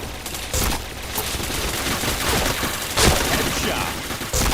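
Dense, continuous gunfire from a video game shooter, a chaotic wash of shots and impacts with several sharper cracks standing out, loud and steady throughout.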